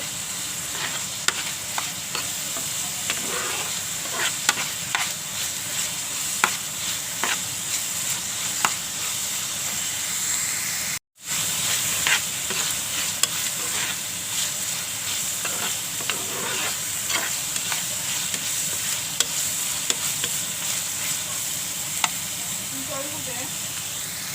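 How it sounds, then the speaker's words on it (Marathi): Onions fry soft in a pan for a red amaranth (lal math) bhaji, a steady, close sizzle with scattered stirring clicks that carries on for over twenty seconds and cuts out for an instant midway. "कांदा भाजत झाला आहे मऊ झाला आहे"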